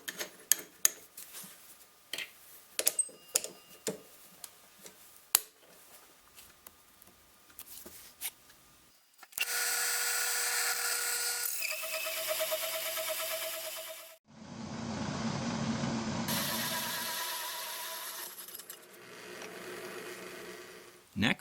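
A 2.5 inch hole saw cuts through 3/4 inch plywood in two long, loud, steady bursts of grinding whine, each pausing briefly, after a stretch of quieter clicks and handling taps.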